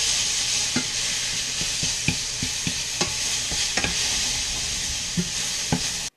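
Vegan lumpia filling frying in olive oil while being stirred, a constant bright sizzle broken by frequent sharp utensil taps and scrapes against the pan, close and unvoiced.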